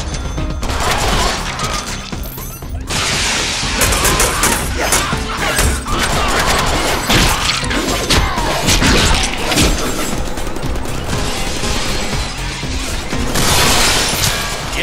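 Loud, continuous gunfire and crashing explosions from the Deadpool video game fill the whole stretch, dense bursts of shots and booms running almost without pause.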